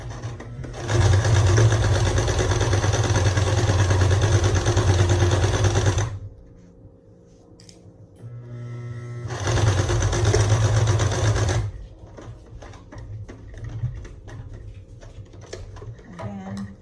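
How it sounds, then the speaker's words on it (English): A sewing machine stitching a fabric face mask straight across the 6-inch side: two long, loud runs of steady, fast mechanical whirring, close, separated by a pause of faint handling clicks, then lighter rustling and tapping. "just stitch it straight across that as well on the 6-inch side."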